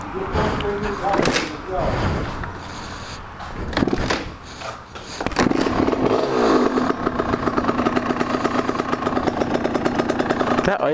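A motorcycle engine with a refitted motor idles low, sounding loud and close with a steady clattering pulse that grows stronger in the second half. Earlier revs and knocks are mixed in, and there is some background talk.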